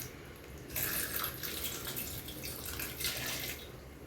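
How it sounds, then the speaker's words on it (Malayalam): Water splashes and streams steadily into a container holding ginger pieces for green mango juice, starting abruptly after a short quiet moment and continuing with gentle fluctuations. "ഇനി നമുക്കൊരു വെള്ളം ഒഴിച്ചു കൊടുക്കാം."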